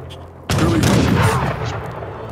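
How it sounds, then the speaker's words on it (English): British rifles firing in an ambush in Age of Empires 3, a sudden loud volley of overlapping gunshots that bursts in and then rolls into a sustained rumbling echo. "Ambush! Those are British rifles."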